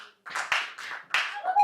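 A church congregation gives a brief burst of clapping, a few quick rounds of hand claps, quiet and somewhat distant, with a voice mixed in.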